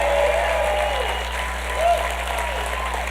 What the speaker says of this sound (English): Give a huge round of applause for Garden Amp for doing this.